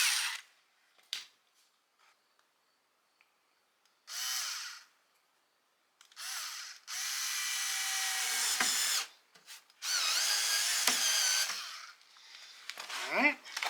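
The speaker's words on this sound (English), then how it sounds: "I'll start by drilling an 1/8 inch hole." A power drill bores a 1/8 inch pilot hole for a screw while custom car door cards are installed, giving several loud whirring bursts of varying length separated by quiet gaps and small clicks.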